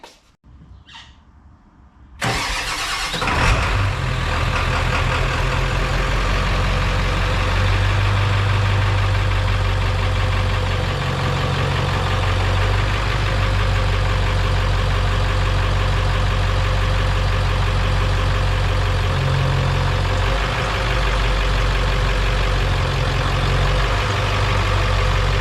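A 1994 Ford F-350 4x4 truck engine starts after a moment of quiet and then runs steadily at a loud, close, rumbling idle for over twenty seconds, with no one talking.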